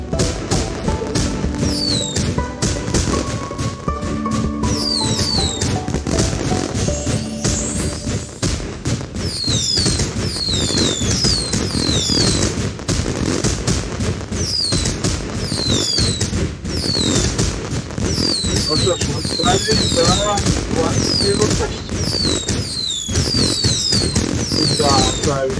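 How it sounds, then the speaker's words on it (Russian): Fireworks win animation in Spider Solitaire, a long run of rapid crackling bursts and whistling rockets, loud and continuous, with a voice speaking over it at times. "Салют, конечно же."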